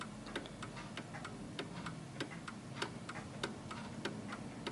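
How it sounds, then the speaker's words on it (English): A 1940s Hermle 8-day German Art Deco chiming clock ticks steadily and softly, its even beats sounding close in a quiet room with faint background hiss. "let's let it tick for a little longer."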